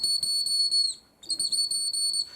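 A water bird whistle blown dry, without water inside, gives a pure, high, steady tone in two sustained bursts split by a short gap, fairly close and alone.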